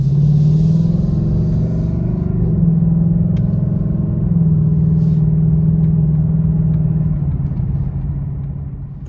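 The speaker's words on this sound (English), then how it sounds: "First thing to note about the car is the exhaust note." A 2020 Ford Mustang GT Premium with the 5-liter engine, driven in Sports Plus mode, produces a loud, steady exhaust drone with slight shifts in pitch, easing off toward the end.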